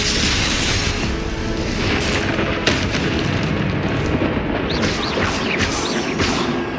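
Repeated Confringo spell explosions in Hogwarts Legacy combat, loud overlapping booms and crashing impacts with several sharp bursts rolling through a constant din.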